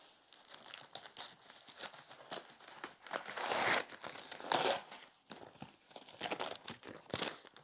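Packaging around a Fennek stainless hexagon flat-pack fire pit being unpacked: close, fairly quiet crinkling and rustling with a few louder tearing bursts in the middle, continuing irregularly throughout.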